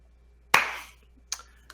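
Two sharp hand claps, the first louder with a short ringing tail and the second quieter a moment later, alone in an otherwise quiet room.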